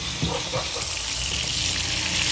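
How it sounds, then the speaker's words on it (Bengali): A piece of hilsa fish fries in a pan, giving a loud, dense, continuous sizzle with a few soft crackles near the start. "এই দেখো সুন্দর ভাজা হইতেছে"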